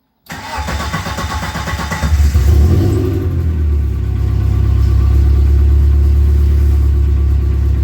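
A Dodge Neon stock car engine cranks over, catches and settles into a loud, steady idle with a deep rumble, heard up close and alone without talk.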